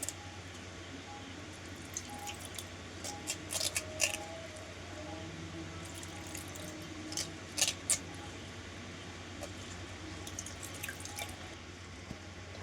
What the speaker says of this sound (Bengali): ঠান্ডা জল দিয়ে ছানাটাকে ধুয়ে নিতে হবে